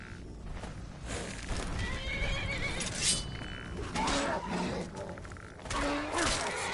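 A horse in the video game Skyrim whinnies and snorts repeatedly amid clopping and rustling game ambience, at moderate volume with no talking.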